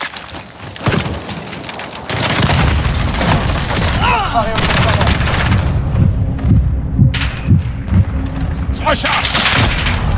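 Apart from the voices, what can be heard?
cluster strike explosions in Call of Duty Modern Warfare video game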